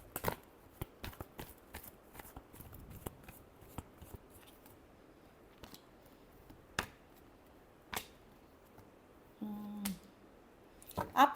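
Tarot cards snapped and riffled in a quiet room, giving a run of sharp, dry clicks and flicks, dense at first and then spaced out, with a short papery shuffle near the end.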